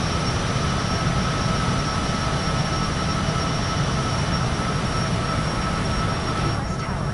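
A Cessna's engine in Microsoft Flight Simulator 2024 on PS5 makes a steady, moderately quiet cabin drone, a broad, even hum with no voices.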